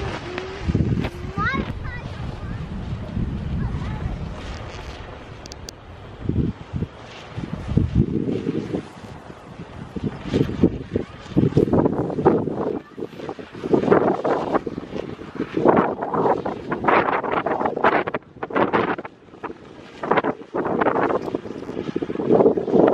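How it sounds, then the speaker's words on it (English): Gusty wind buffets the microphone in loud, rumbling bursts, with a voice speaking intermittently beneath the roar. "It's really windy."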